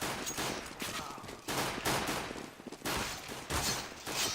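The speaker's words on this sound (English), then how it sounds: "A couple of grenades coming out, so not quite sure what's going on." Bursts of rapid gunfire and explosive blasts from a competitive shooter video game match, loud and dense in repeated waves with short gaps between volleys.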